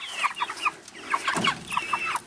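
Chickens kept in a PVC chicken tractor on open ground cluck in short, repeated bursts, several birds near and fairly loud with no talk over them.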